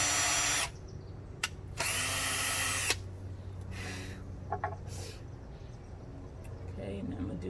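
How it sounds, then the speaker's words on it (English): A power drill bores a hole in the wood of a garden box with a loud whirring burst, and then a second burst follows. Quieter clicks and light handling noises come after the drilling. "So I'm gonna go ahead and finish drilling it."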